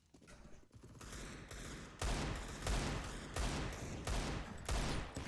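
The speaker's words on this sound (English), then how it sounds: "A lot of spam shots going down towards the back of Banana there." Rifle fire in a Counter-Strike match, heard as repeated spraying bursts in a steady rhythm, loud and dense with no talking.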